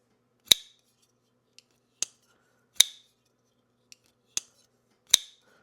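Blade of a Liong Mah KUF V3.5 folding knife dropping shut, six sharp, close metallic clacks spaced about a second apart in a quiet room, a few louder than the others.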